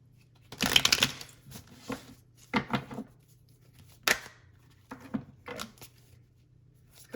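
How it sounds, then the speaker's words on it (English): Tarot cards shuffled by hand during a pick-a-card reading, several short crisp bursts of riffling and sliding cards close up, separated by quiet pauses over a low steady hum. "give it a good shuffle."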